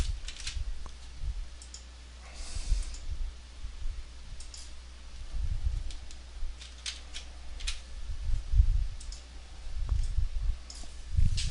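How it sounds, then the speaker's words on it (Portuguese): A computer mouse gives soft, scattered clicks, including right-button presses, close and fairly quiet over a low steady background hum, with no voice. "Ao clicar o botão direito"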